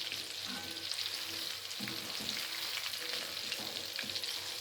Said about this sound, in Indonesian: kita goreng seperti ini ya, dengan minyak banyak